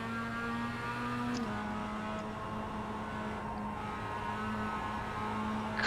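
Race car engine in the iRacing sim holding high RPM in third gear, a loud steady drone with layered harmonic whine that dips briefly in pitch around a gear or throttle change, continuous throughout.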